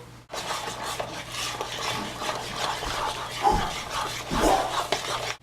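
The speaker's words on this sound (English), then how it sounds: "you're going to just stir all the ingredients until they're combined" Pecan pie filling ingredients, including bourbon, being stirred together in a bowl for a Southern Thanksgiving pie, with steady scraping and clinking of a utensil against the dish and no talking.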